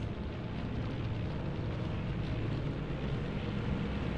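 Steady, loud engine roar of fighter planes in the Pacific air-combat video game Air Conflicts: Pacific Carriers, a continuous dense drone with no breaks and no speech over it.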